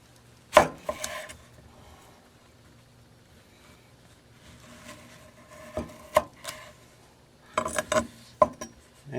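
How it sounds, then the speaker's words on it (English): A kitchen knife from a 3-piece set slices through a melon and cuts it into wedges, giving a few sharp chopping knocks on the board with quiet gaps between them. "So let's go ahead and slice this up here. We can do that, and now we can make wedges out of it."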